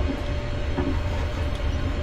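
A Class 380 passenger train running on rails, heard from the cab as a loud, steady rumble with a faint tonal whine and light rail clatter, no talk.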